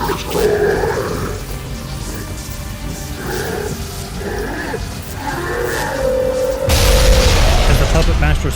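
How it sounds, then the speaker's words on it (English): Explosion sound effect in an audio drama podcast: a loud, sustained rumbling boom with growling, roaring tones, swelling into a heavier blast near the end. "As the puppet master's explosion began to fade"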